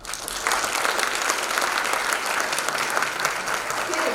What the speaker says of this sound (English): let's give a big round of applause to our incredible you folks over here